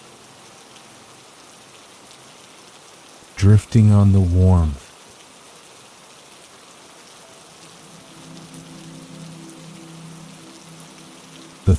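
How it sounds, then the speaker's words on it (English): Steady soft rain falls throughout, a gentle even hiss that continues behind a calm, soft-spoken voice. "Drifting on the sound of the rain."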